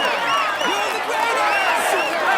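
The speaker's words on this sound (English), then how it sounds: "Applaud him" Roadside crowd at the Tour de France final stage on the Champs-Élysées cheering and applauding the white jersey rider, a dense, steady roar with whistles and shouts rising above it throughout.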